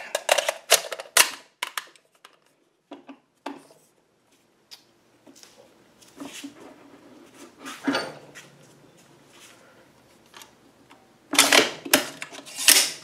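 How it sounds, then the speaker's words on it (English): Metallic clacks and clicks from handling a Palmetto State Armory PTAC10 .308 rifle with a Palmetto State Armory magazine, its bolt dropping forward: scattered sharp close transients in a quiet room, a dense burst near the end. "drop the bolt first."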